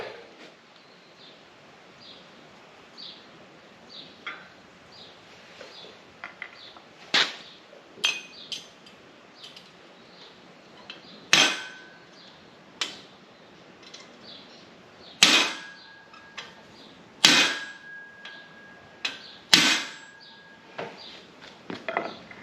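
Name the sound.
hammer tapping on sickle mower section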